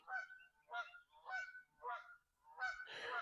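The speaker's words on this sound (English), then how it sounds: "The geese have a lot to say today." Geese honk outdoors in a rapid series of about six loud, nasal calls with short gaps between them. The last calls run together, and there is no talking.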